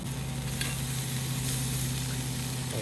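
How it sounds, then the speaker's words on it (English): Alligator gar steak sizzling on a grill, a steady loud hiss with a faint scraping as the meat is loosened from the grates, no talk. "we're gonna get this gar steak right here ready to flip. Just lightly scrape it loose from the grill"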